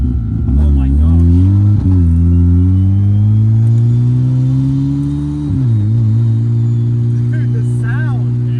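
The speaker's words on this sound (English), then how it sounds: "proper race car sound. Oh yeah. That turbo spool." A turbocharged BMW with a billet engine revs hard and loud, its pitch climbing steadily, dipping briefly as if shifting gear, then climbing again.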